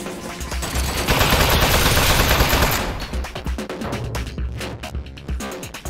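An Aperture Science turret in the game Aperture Desk Job fires its gun in a loud, sustained rattling burst that tails off into scattered clatter and impacts.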